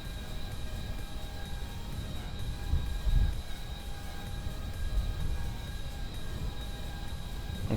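Aircraft engine roaring steadily through a takeoff run on the KSC runway in Kerbal Space Program, a continuous broadband drone with faint tonal whine and a slight swell near the three-second mark, no voices.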